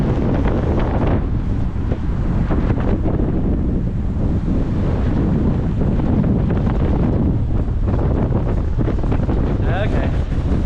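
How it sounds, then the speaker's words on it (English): Strong wind roars and buffets the microphone on a street in Macau, a loud, continuous rush with no clear talk. "It's a windy, windy day."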